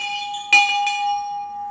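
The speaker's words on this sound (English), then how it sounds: "Plus there's a bell." Bell in a pub on the Virgin Voyages Scarlet Lady cruise ship, struck once or twice with a bright metallic clang and a long, clear ringing tone that sustains close by, with no talk.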